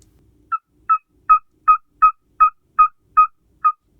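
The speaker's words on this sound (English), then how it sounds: "Let's see what a pygmy owl sounds like." A series of nine evenly spaced, clear whistled hoots from a pygmy owl, repeated at a steady rhythm in a quiet setting.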